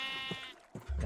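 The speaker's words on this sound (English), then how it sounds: "Got my sheep and cows in the background with the pigs." A Minecraft sheep bleats once, a clear wavering cry, followed by a short low thump and a rumbling noise at the end.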